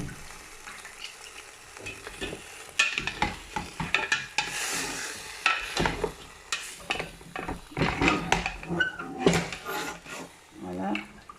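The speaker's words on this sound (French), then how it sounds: "Alors je mets d'abord tous mes légumes" Vegetables are tipped into a pot of boiling broth for couscous with guinea fowl, giving irregular clattering thuds, splashes and stirring scrapes at close range, with soft sizzling underneath and a voice talking intermittently.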